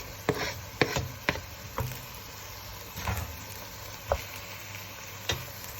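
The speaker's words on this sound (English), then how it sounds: "And now we've added in the onions and garlic. And we're going to give that a stir" Onions and garlic sizzling in a pan for a mild Cape Malay mince beef curry: a soft steady sizzle with scattered scraping knocks from stirring, fairly quiet and close.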